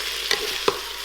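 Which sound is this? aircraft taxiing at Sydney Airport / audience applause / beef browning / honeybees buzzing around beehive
beef browning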